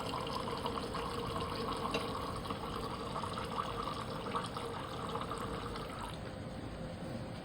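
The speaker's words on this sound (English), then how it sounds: "we're going to add 75 milliliters of distilled water" Distilled water poured into a container in a steady, continuous splashing stream with no talk, holding an even level throughout.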